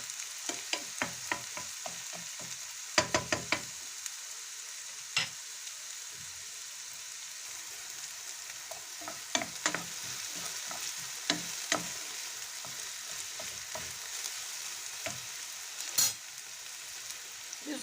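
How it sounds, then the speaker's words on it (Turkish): Seven garlic cloves softening in a pan, a faint, continuous sizzle broken by scattered light clicks and scrapes of a stirring spoon. "Yedi adet sarımsak yedi diş. yumuşayana kadar kavuralım."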